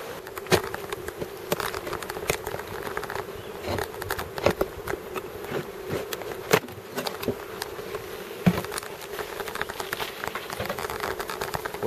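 Honeybees buzz continuously around an open hive during maintenance, a close, steady drone dotted with sharp clicks and taps from handling.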